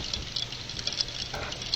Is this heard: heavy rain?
yes